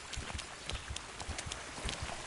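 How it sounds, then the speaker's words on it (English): Horse hooves galloping in the medieval game Kingdom Come: Deliverance, a quick, regular thudding rhythm of hoofbeats heard faintly under a steady background wash. "This horse actually isn't that slow if you look at this."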